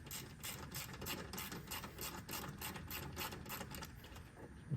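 Rapid ratchet clicking from a hand wrench backing out a couple of 10mm bolts on a coolant tank, a steady close-up chatter of pawl clicks in quick bursts with no talking.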